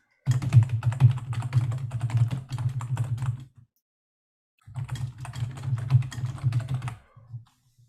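Fingers type quickly on a computer keyboard nearby, a dense run of clicking keystrokes lasting a few seconds, a brief silence, then another burst of typing ending with a couple of taps.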